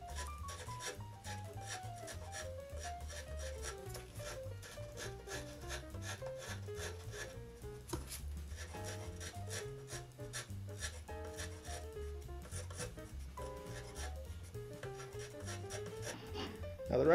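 A woodworking rasp files wood to clean up an internal corner round-over, making rhythmic rough rubbing strokes pushed forward one after another, close and fairly quiet, with no talking.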